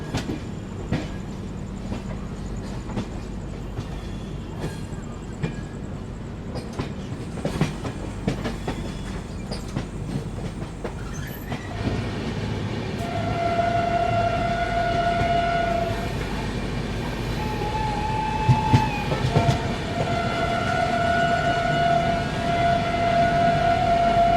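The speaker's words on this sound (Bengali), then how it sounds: "ট্রেন এখন ক্রস করছে নৈহাটি" A long-distance train passes through Naihati on a journey from Kolkata toward Guwahati, its wheels rumbling steadily, with sustained sirens or horns sounding in the later part.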